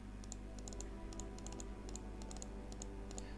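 A computer keyboard clacks in quick, irregular bursts of keystrokes, close and clear over a steady low hum, during a strategy game session.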